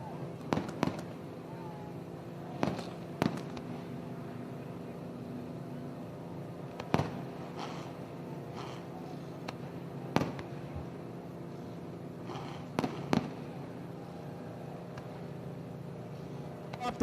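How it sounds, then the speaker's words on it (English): Fireworks bursting over the back straightaway of a race track at a memorial race event, distant sharp bangs spaced irregularly several seconds apart over a low steady background rumble. "a little bit later than we usually see the skies filled with fireworks here"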